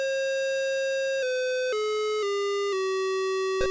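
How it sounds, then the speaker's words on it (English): Square-wave beeping from an old PC speaker plays video game music as a steady, buzzy electronic melody, stepping down through several sustained notes with no pauses, alone and fairly loud. "I also get a little teary-eyed over the sounds of old PC speaker music"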